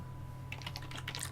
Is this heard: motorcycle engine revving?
no